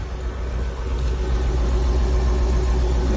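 A 1966 Ford Thunderbird V8 with a freshly fixed carburetor idles close by, a steady, even low rumble that holds without change and has no voices over it.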